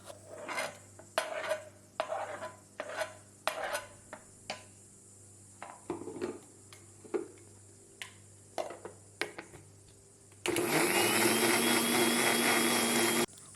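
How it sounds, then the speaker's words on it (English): Dishes and utensils clatter in short knocks, then a mixer grinder starts grinding sliced mango, loud and steady, its motor whining and roaring without pause until the end. "add to the mixer and grind."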